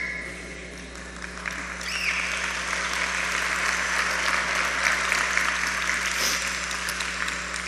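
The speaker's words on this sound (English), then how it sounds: "so awfully kind of you to clap even before my talk" A large crowd at an evening presentation applauds loudly and steadily, a thick wash of clapping that builds slightly and continues without pause.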